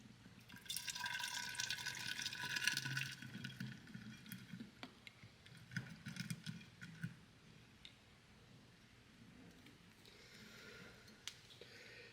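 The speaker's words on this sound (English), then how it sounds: "Top this thing up with water, pour it in here" Water splashes as it is poured into a container for an Omega Propper yeast starter, a steady broadband pour lasting a few seconds, followed by quieter dripping and small clinks nearby.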